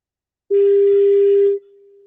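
A steady, loud electronic telephone tone sounds for about a second, with faint harmonics above, then continues more quietly alone as a call goes unanswered.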